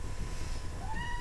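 A house cat meows indoors with a rising, drawn-out cry near the end, over steady low room noise and a faint squeak.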